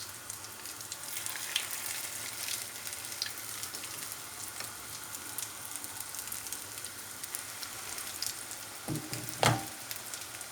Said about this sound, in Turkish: Ve hala ateşte kızgın bir yağda kızartıyoruz.